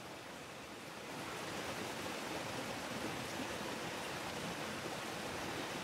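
Water runs and splashes steadily over an old Porfirian-era centavo coin caked in mud, a continuous broadband wash that swells after the first second and holds, close and alone with no talk.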